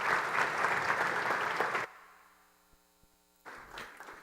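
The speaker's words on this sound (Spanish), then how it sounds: "Un aplauso, por favor." Applause from a TEDx audience welcoming a speaker to the stage, dense and close for nearly two seconds before breaking off into quiet hum, then returning briefly.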